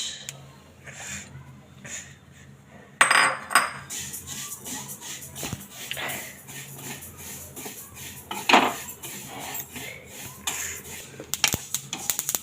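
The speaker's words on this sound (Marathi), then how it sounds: "तीळ छान असे तडतड वाजलेले आहेत तर छान भाजलेले आहेत" Sesame seeds roasting in a kadai on a gas stove give off close, scattered crackles and pops with clinking, scraping stirring sounds, with a few louder bursts.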